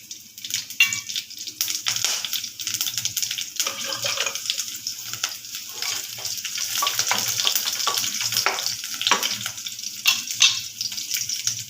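Onion, green chili, mustard seeds, urad dal and curry leaves fry in hot oil in a pan for a poha snack, a loud crackling sizzle with irregular pops and spatters and occasional stirring.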